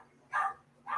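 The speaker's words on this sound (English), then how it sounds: "I'm gonna shut the door because my puppy's hollering." A puppy howls or yelps in two short bursts, the first longer and louder, the second cutting in at the very end, over a faint steady indoor hum.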